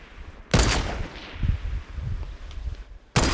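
Gunfire in a shooter game: two sharp, loud shots about three seconds apart, with quieter rumbling game noise between them.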